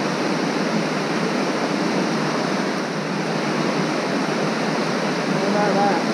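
Heavy rain pours steadily at a barbel fishing spot in Sussex, a dense, continuous wash of broadband hiss with no letup across the whole clip.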